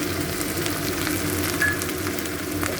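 Onion with ginger, cumin and chili paste frying in oil in a pan for a catla fish and cauliflower curry, a continuous close sizzle with soft crackles and occasional stirring scrapes, no talking.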